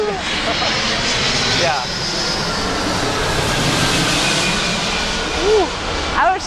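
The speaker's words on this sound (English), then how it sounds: "There is an airplane." A fixed-wing airplane drones loudly overhead on arrival in Los Angeles, a steady engine roar filling the whole stretch while people talk over it.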